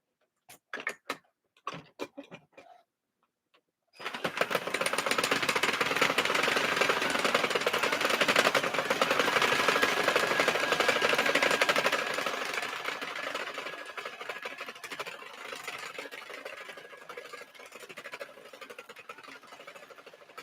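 A knitting machine works Red Heart Super Saver yarn with a steady, dense mechanical whirring and clatter that runs loud and continuous after a few sharp clicks, easing somewhat toward the end.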